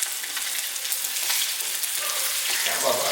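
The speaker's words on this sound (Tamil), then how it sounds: "இந்த ஃபிஷ் ஃப்ரையோட சிசலிங் சவுண்டுக்கே" Fish fries on a wood-fired stove on a rooftop, a bright, dense, steady sizzle heard up close with faint background murmur toward the end.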